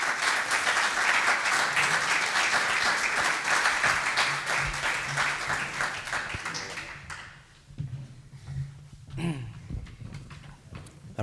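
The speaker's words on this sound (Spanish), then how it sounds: "un aplauso" A crowd at a gathering breaks into loud, sustained applause, dense rapid clapping that fades out after about seven seconds, leaving scattered claps and room noise.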